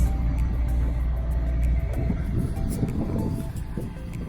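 A Mercedes-AMG E63S sedan with 4MATIC all-wheel drive idling and being revved, giving a steady low engine rumble that swells slightly in the middle without any talking.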